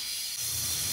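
Steam from a pressure cooker filled with mutton and gravy hisses steadily and fairly faintly, a brief continuous release with no voices.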